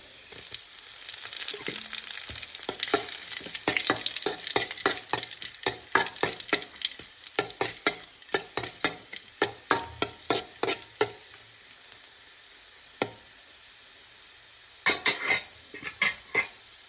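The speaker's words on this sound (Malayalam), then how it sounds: "അതിലേക്ക് നമ്മൾ വറ്റിൽ മുളക് ചേർത്തെടുക്കുക ഒരു ഒന്ന് മൂത്തോട്ടെ" Dried red chillies fry and crackle in a pan for a banana flower stir-fry, with a spoon scraping and clinking against the metal in busy bursts, easing to sparse taps, then a final flurry of stirring.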